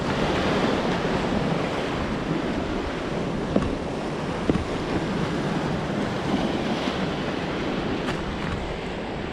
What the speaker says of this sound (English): The river makes a huge maelstrom here. And if you were caught in that, it would take you back, and look at the waves that it's making here.